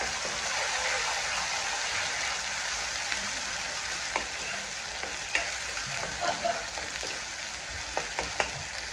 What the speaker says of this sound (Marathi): आता त्याच्यामध्ये मी हे वाटण टाकून घेते.